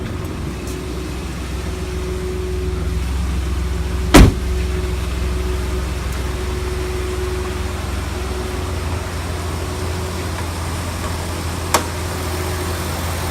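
A 2012 Jeep Liberty engine idles steadily and quietly with a low, even hum, broken by two brief sharp clicks.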